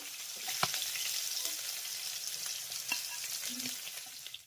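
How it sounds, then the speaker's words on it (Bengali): Katla fish pieces fry in hot oil with a steady, close hiss, and a few brief clinks and scrapes from a utensil stand out over the sizzle. "একই রকম ভাবে বাকি মাছগুলোকেও ভেজে নেবো"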